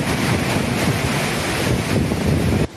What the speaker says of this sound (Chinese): 狂风暴雨肆虐绿岛